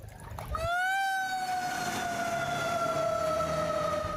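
A toy fire truck's electronic siren sounds alone, starting after a brief click and then holding a steady, loud, close two-tone wail for several seconds.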